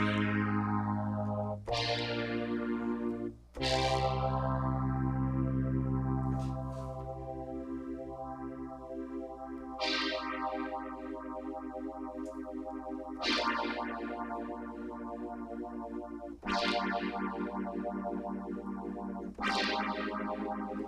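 A Solina String Ensemble runs through a phaser, its sustained string-machine chords swept by slowly moving hollow notches, with new chords entering every few seconds at steady loudness and no voice.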